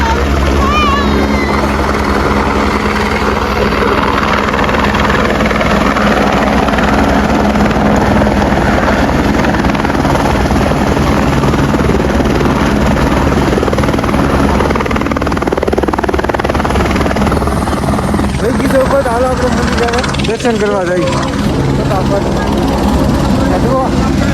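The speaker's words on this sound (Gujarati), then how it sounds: "એક હેલિકોપ્ટર આવે" A helicopter's rotor thrum and engine drone hold steady and loud throughout on the Kedarnath trek in the Himalayas, with people talking nearby over the noise.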